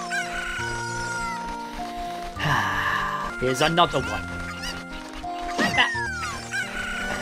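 Cucco chickens in a Zelda video game cluck and squawk in short bursts amid game music and chimes, close and clear, while someone talks over them.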